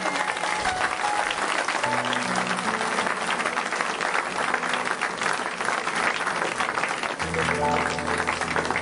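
A church congregation claps and cheers in steady, dense applause through a praise moment, loud and continuous, with a voice briefly audible over it.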